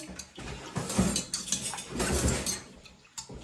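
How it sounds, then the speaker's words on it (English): A fork scrapes and clinks against a bowl while mixing homemade bread ingredients, giving quick, uneven bursts of knocking and scraping at close range. "Let's mix this up a little bit more with a fork."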